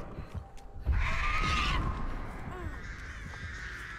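Crows caw in the Dead by Daylight game, a loud harsh call bursting in near the start and trailing off, with a few fainter caws and game ambience around it.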